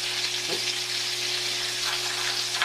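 Chopped crispy bacon sizzles and spits in a pan, a steady close frying hiss under a low hum, with a brief stir or pop near the start.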